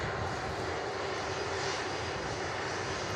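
An Airbus A330 airliner taxiing past at Manchester Airport, a steady broad engine roar that holds constant and fairly distant throughout, with no talk over it.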